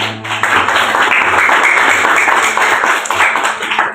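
A classroom of students clapping together in a dense, loud burst of applause that holds steady for several seconds before tapering off.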